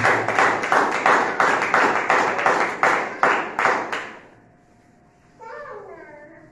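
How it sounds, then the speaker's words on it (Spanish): A church congregation claps their hands in a rhythmic, evenly spaced pattern, loud and close, and the clapping stops abruptly and is followed by a brief pause and then a voice speaking. "Denle fuertes palmas que sigue viviendo."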